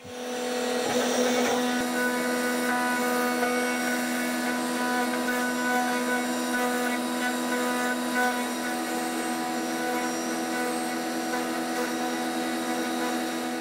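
A router fitted with a 1/2 inch cutter cuts a tremolo pocket into a guitar body, a loud high-pitched motor whine that spins up sharply and holds steady and close, with a gritty cutting texture.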